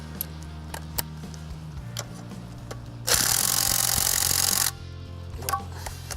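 A wrench with an extension loosens 9/16 motor mount bolts on a used 350 engine. A loud, steady mechanical burst of about a second and a half stands out against faint scattered ticks and clicks.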